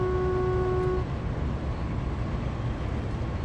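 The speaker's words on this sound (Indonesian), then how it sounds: "Kita klakson." Locomotive horn from a new freight locomotive in Train Sim World, a steady toned blast lasting about a second over a continuous loud engine rumble that carries on afterward.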